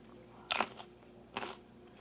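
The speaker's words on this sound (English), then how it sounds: "I love a good crunchy grape." Two crisp crunching bites into a firm, crunchy grape, close and isolated, each a short sharp burst followed by brief softer chewing crackle in a quiet room.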